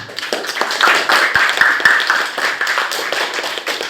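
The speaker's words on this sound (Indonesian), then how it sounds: "beri tepuk tangan untuk kelompok-kelompoknya, anak-anak" Children clap together in a classroom to applaud the groups, a close, uneven patter of small hands that stays fairly steady for a few seconds with a few sharper individual claps.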